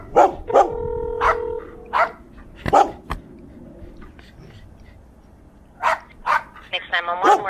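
Several dogs bark and yip in sharp bursts, with a pause in the middle before more barking, while someone talks over them and a siren-like tone sounds briefly.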